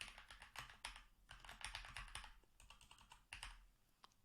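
Quiet, close tapping on a computer keyboard as a street name is typed into a search field, with quick uneven clusters of keystrokes and brief gaps between them.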